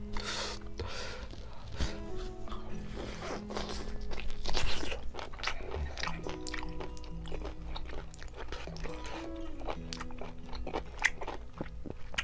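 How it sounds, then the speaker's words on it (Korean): Biting and chewing a whole parboiled king octopus leg, with repeated close, wet crunching and chomping bites in an uneven rhythm, fairly loud, with no talking. "문어다리 통으로 한번 찍어서 먹어보도록 하겠습니다"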